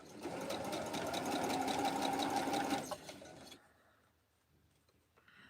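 A sewing machine stitches elastic into pajama bottoms in a fast, steady mechanical whir for about three seconds, then stops, leaving faint room sounds and small handling noises, close by.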